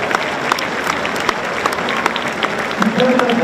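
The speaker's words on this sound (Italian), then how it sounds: "Facciamo un applauso ai nostri sacerdoti." A congregation applauds at a Corpus Domini celebration, a dense burst of clapping with sharper individual claps standing out, loud and continuous, while a voice joins in briefly toward the end.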